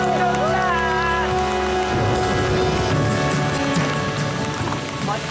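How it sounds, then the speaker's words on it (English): Heavy rain pours down on a remote island, a dense steady hiss of drops on surfaces, loud and close, with some brief shouting or cheering voices mixed into the downpour. "The return of the rain proves to be their salvation."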